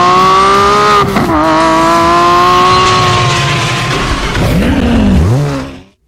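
A 2019 Bugatti Divo sports car roars loudly and steadily close by, its engine note holding high with a brief dip near the start and a falling sweep before cutting off.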